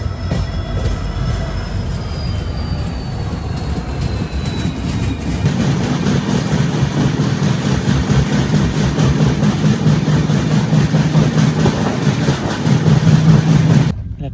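Diesel locomotives shunting in a railway maintenance yard, a continuous low rumble of engines and rolling stock that grows louder partway through, with faint high wheel squeal; no voices.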